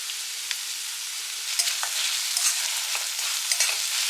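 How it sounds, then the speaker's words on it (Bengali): Finely chopped onion frying in oil with ginger-garlic paste in a pan: a steady high sizzle with faint crackles and occasional light stirring scrapes, close and continuous. "তেলের মধ্যে প্রথমে আমি পেঁয়াজ অ্যাড করে দিয়েছি, পেঁয়াজটা কিন্তু ফাইনলি চপ করবে, আর এই পেঁয়াজটা ভাজতে ভাজতে এর মধ্যে আদা রসুনের পেস্টটা অ্যাড করে দেবো।"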